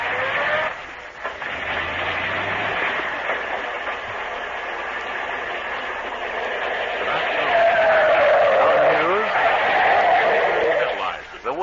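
A radio sound effect of car brakes skidding: a long, loud tire screech that holds for several seconds and swells near the end, with voices talking around it in an old-time radio comedy show.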